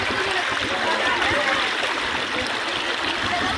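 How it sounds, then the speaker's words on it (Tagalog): Strong current of the Tiboy River in Oriental Mindoro rushes loudly and steadily, a close, broad wash of flowing water with no pauses. "Napakalakas ng agos ng tubig."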